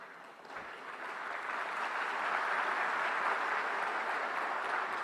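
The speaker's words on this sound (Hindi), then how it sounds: "आप गया था इसकी ताली बजा रहे होगा" Audience applause fills a large hall at the Semicon India 2025 inauguration at Yashobhoomi, a dense, steady wash of clapping that swells in the first seconds and holds loud and even to the end.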